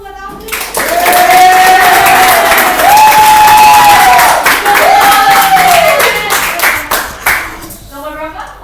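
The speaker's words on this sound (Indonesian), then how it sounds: "Udah kasih aplaus dulu buat Audrey." Loud, steady applause and cheering from a crowd including children, clapping swelling and holding for several seconds while a voice calls out over it before the sound tapers off.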